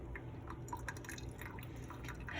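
Water is poured slowly from a kettle onto coffee grounds, a quiet stream of soft drips and trickles at close range with no talking.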